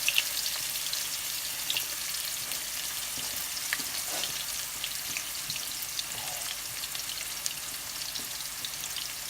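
Onion sizzles in reused oil left from frying crispy tacos, a dense steady crackle with scattered pops and light stirring, close and alone without speech.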